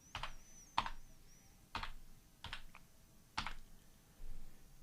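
Numbers typed on a computer keyboard, heard as about five separate bursts of close, crisp keystroke clicks with short quiet gaps between them and no voices.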